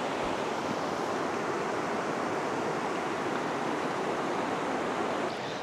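Clear water of a pebble-bedded creek at Camp Pebble Creek in Mayantoc, Tarlac flows in a steady, broad rushing hiss, close and constant with no voices.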